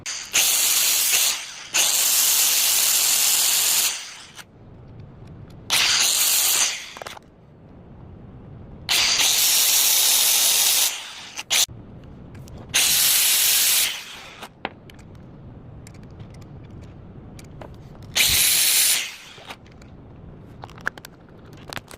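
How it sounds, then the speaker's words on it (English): Angle grinder grinding down the edge of a pinion gear for an X-Maxx RC truck, in five loud bursts of harsh hiss separated by brief pauses and quieter handling noise. "I use the grinder to grind down this edge to make it fit this all the way through"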